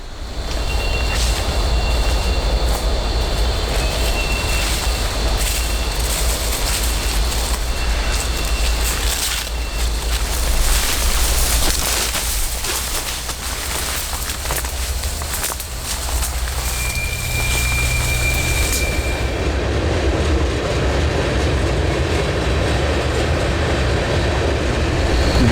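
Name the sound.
freight trains passing through a railway station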